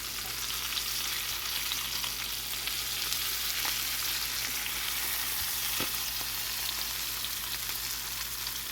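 Fish frying in hot oil makes a dense, even sizzle that runs unbroken and close, with a couple of faint clicks partway through and no talking.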